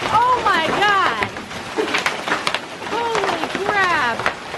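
Big hailstones pound down during a violent hailstorm, a dense steady clatter of sharp hits heard from inside a car, loud and close, with excited voices talking over it throughout.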